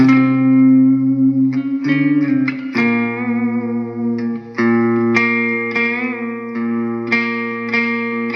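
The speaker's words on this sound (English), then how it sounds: "your reverb there, a dark reverb, which is quite nice" Electric guitar notes and chords through a Blackstar Amped 3 ring out with a deep, dark reverb, each phrase blooming and sustaining into a thick wash of echo.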